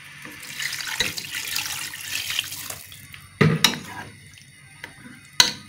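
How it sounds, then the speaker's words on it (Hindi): Water runs and splashes into a pan of frying mutton chaap coated in ginger-garlic paste, a close, uneven pour with a few sharp clatters and splashes, and no speech. "अब हम इसमें पानी डालकर इसको गलने के लिए रख देंगे तकरीबन 20 मिनट के लिए"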